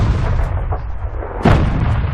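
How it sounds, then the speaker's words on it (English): Tank cannon fire in the online battle game World of Tanks, a loud low rumbling battle bed broken by one sharp heavy boom near the end, with no talk. "People are shooting."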